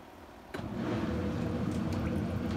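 A shower head spraying water into the drum of a small washing machine inside a converted bus tiny home, starting abruptly and then running as a steady close rushing fill.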